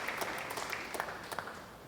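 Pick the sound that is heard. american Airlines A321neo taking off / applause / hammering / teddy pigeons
applause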